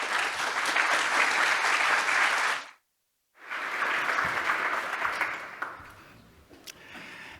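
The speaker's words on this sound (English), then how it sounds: "Let's give him a round of applause." A conference audience at a consciousness science plenary in Barcelona applauds after a speaker's introduction, a dense wash of clapping that cuts out briefly, resumes, then fades to scattered claps.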